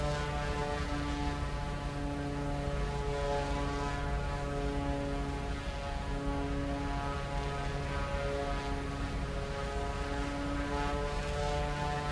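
A turboprop transport aircraft engine in Microsoft Flight Simulator 2024 hums steadily, a constant loud propeller drone with layered tonal whine holding unchanged for the whole stretch, no talking.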